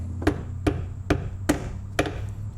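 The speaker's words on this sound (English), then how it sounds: "Dare I beat on this with a hammer?" Five sharp metallic hammer blows on a Promaster van cowl part land at an even, deliberate pace, close and ringing briefly after each strike.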